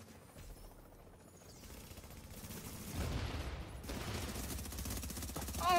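Sustained video-game gunfire from The Division, a continuous rattling fusillade growing louder and denser toward the end with no talk over it.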